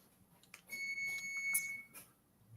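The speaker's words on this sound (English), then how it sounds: "Is that beeping from your kitchen?" A high, steady electronic alarm tone sounds faintly from a kitchen in the background, a thin sustained beep lasting about a second amid low room noise.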